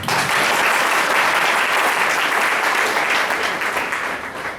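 Seminar audience at a motivational talk for young people breaking into loud, sustained clapping, a dense wash of many hands that holds steady for several seconds before tapering slightly at the end.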